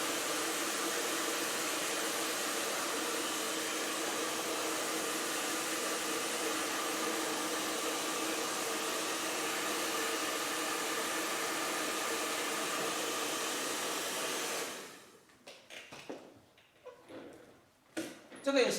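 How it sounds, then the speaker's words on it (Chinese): A hair dryer blows steadily on a Chinese ink landscape painting to dry the wet ink, a loud, even whoosh that runs for about fifteen seconds and then cuts off, followed by faint handling noises. "先把它吹干一下。"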